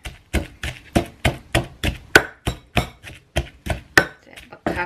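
Chilli paste pounded coarsely in a mortar for a Thai pea eggplant relish, a steady series of about eighteen sharp, close thuds in even rhythm with no talk.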